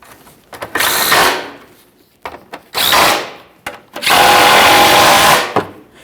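A power tool whirs in three bursts, the last one longest, while tightening mounting bolts on a 2002-2009 Chevrolet Trailblazer with the 4.2L inline-six, done from underneath the vehicle during an oil pressure switch replacement. No talking.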